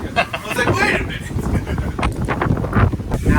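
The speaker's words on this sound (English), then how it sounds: "It's some wind, boy." Strong gusting wind buffets the microphone aboard a sailboat off Lefkada, Greece, a loud rushing roar with flapping and rustle, while people talk over it.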